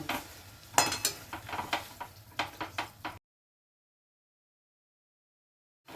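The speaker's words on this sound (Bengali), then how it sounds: "আমি একটা ম্যাশারে এটাকে ভালো করে ম্যাশ করব" Cooked vegetables are mashed in a pot with a masher, giving a few seconds of close, rhythmic metallic knocks and squelches that stop abruptly into silence.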